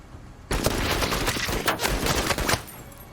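Sustained squad gunfire in the MENACE video game, a dense burst of overlapping rifle and automatic shots that starts abruptly and rattles on loudly for a few seconds with no talking.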